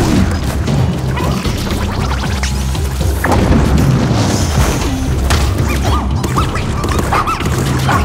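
A rock bomb blows up in Pikmin 4 during a fight with a big dog-like boss, giving a loud, dense crash and boom over busy game sounds that continue throughout.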